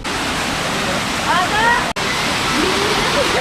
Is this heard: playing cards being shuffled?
no